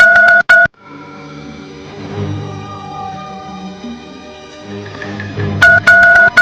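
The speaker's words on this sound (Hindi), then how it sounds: "रुकिए, मैं उसे फोन लगा के देखती हूँ।" Short bursts of phone keypad tones ring out at the start and again near the end, with soft music-like hum between them.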